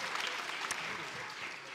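Audience applause for a juror at the Mysłowice Mają Talent 2022 talent show, a steady dense clapping from a crowd filling the whole moment without pause.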